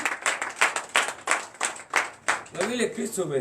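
A church congregation at a Sunday worship service clapping in acclamation, a steady rhythmic beat of hand claps close by, with a voice joining toward the end.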